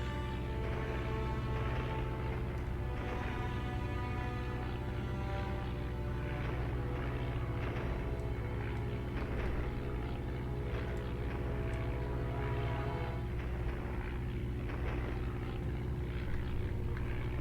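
A World War I aircraft engine drones steadily through a flight video game set in Bloody April 1917, a continuous low propeller roar with faint gunfire-like ticks layered over it, unbroken for the whole stretch.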